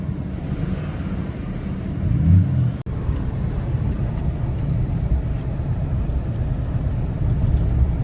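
A used car at a dealers-only auction revs as gas is applied, a steady low engine rumble that swells briefly, then cuts out for an instant before the drone resumes under outdoor wind noise.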